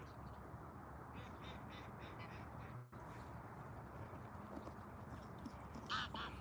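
Ducks quack outdoors on an overcast day, a few faint bursts of calls early on and again near the end over a steady wash of background noise.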